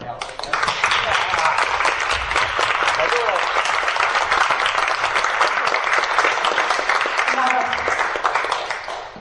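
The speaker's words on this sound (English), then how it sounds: "I think you need to be given a round of applause for helping us." Sustained audience applause at a committee's final meeting, thanking volunteers: dense, loud clapping that starts abruptly, holds steady for about eight seconds, then tapers off.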